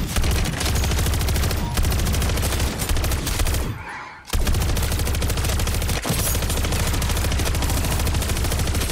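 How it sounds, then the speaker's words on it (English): An automated sentry gun in a zombie shooter game fires nonstop, a dense, rapid stream of loud shots that stalls briefly about halfway through before hammering on steadily to the end, with no one talking. "Sentry gun deployed."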